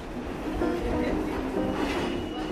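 Crowded subway train rumbling steadily along the tracks, a continuous loud rolling drone with a faint murmur of voices beneath.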